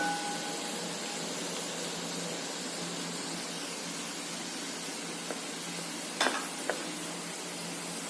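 Chilli powder fries with curry leaves in hot oil on a low flame for mango pickle, a steady, even sizzle with a couple of brief clinks near the end.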